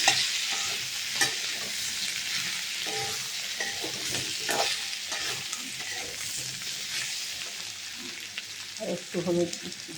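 A spoon stirs turmeric into a sizzling fish curry with elephant foot yam in a pan: steady frying hiss with soft, irregular scrapes throughout, a little louder near the end.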